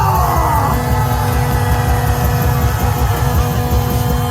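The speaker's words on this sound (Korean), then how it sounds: "우리 다시 한번 윤석열에게 뜨거운 함성을 보내주시기 바랍니다" A large crowd at a Gwanghwamun rally against impeachment cheers and shouts continuously, loud and dense, with overlapping yells and whoops carried on a constant roar.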